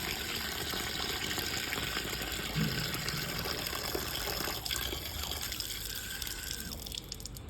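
Water gushes steadily from a repaired PVC tap, a close, continuous splashing stream that softens slightly near the end, with no talk.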